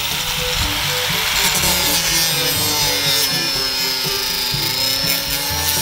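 A saw cutting into a metal safe, a steady grinding, rasping drone with a faint rhythmic stroke beneath it, close and continuous with no talking.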